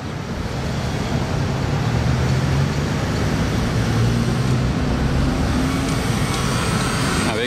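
A full-black latest-generation Aston Martin Vanquish on the street in Monaco, its engine and exhaust producing a steady, loud, rumbling drone that holds throughout with no break.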